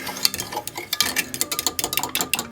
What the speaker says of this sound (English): Stir that together